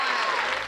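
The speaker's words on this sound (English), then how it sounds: "I want another round of applause for the real star of today's game" Audience applause for a star player after a game, a short, dense burst of clapping that stays steady throughout.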